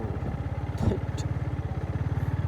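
A motorcycle's engine putters in a steady, rapid low thump, close and continuous, with a brief clatter as it jolts over a rough village road in the hills of Nuwakot.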